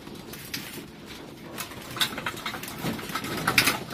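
Pigeons being fed peanuts give soft cooing calls, faint and intermittent over light background shuffling and patter, with no one talking.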